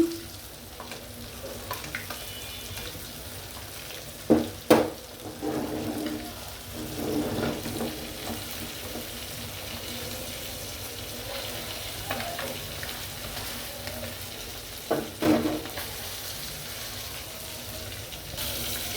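Sarpunti fish fries in a shallow layer of oil in a pan, with a soft steady sizzle and a few louder clattering bursts from a spoon or handling. No one speaks.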